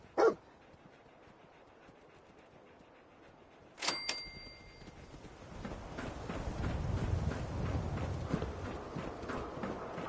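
In the video game Fallout 4, a dog gives a short, sharp bark at the start. Crisp clicks follow, then a steady patter of footsteps grows louder.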